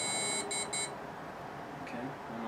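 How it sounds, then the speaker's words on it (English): A computer motherboard gives a few short high beeps on boot, quiet and close, followed by low machine hum. "Couple beeps."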